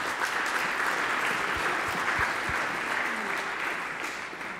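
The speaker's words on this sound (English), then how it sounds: "Give her a round of applause." Audience applause at a fundraiser cake auction, a steady wash of clapping from a crowd that runs the full length and tapers slightly at the end.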